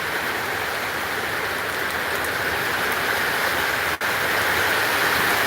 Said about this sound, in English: Can you hear me over the rain?